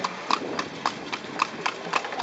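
A horse's hooves clip-clop in a steady, even rhythm while it pulls a kalesa carriage, heard up close with faint voices in the background.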